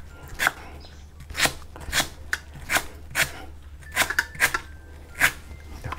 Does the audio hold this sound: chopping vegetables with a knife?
yes